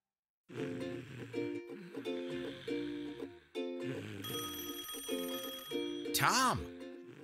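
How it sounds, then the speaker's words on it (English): A cartoon telephone rings in repeated bright, trilling bursts with a short pause between them, joined near the end by a rising and falling cartoon sound effect. "You have a phone call."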